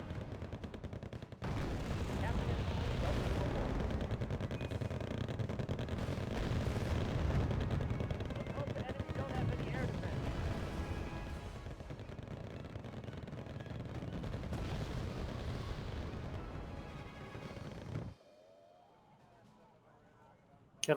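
In Arma 3, 60mm short-range mortars fire in a dense, continuous barrage of heavy booms and rumbling impacts for about seventeen seconds, then cut off abruptly into near silence.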